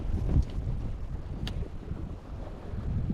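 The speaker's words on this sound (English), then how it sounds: "so it's getting pretty windy, more than it said" Gusty wind at a pond beside a trail in the Merritt Island wildlife refuge buffets the microphone, a steady low rumble with heavier thumps near the start, continuous and close, with no one speaking.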